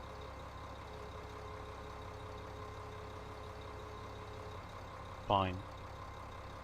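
A tractor engine in Farming Simulator 15 idles at a low, steady drone for the whole stretch, with one short spoken word near the end.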